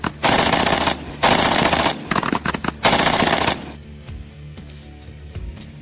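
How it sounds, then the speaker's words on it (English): Machine gun fire in three loud sustained automatic bursts, each roughly a second long, separated by scattered single shots and followed by quieter fading reports and echoes. "Machine guns."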